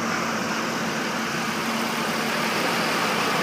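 A 2002 Buick Century Custom engine idles steadily and close by, a continuous broadband hum with a faint low tone holding level throughout and no voices.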